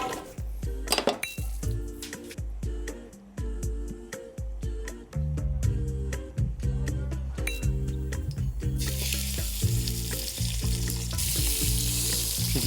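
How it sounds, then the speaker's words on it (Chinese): Food, with fish on the menu for dinner, sizzles as it is stir-fried in a pan, with clinks and scrapes of the utensil against the metal, moderately quiet and steady and with no talking. "小东炒菜啊？"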